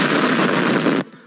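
A Diwali firecracker app sets off a rapid string of firecracker bursts as one loud, dense crackle that lasts about a second and then cuts off abruptly.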